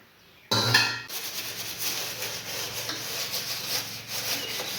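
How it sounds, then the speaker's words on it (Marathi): A kitchen counter is scrubbed by hand in a steady, continuous rubbing rasp that starts abruptly and carries on close up with no talking. "आता पहिला ओट्टा मी काय करते, घासून घेते."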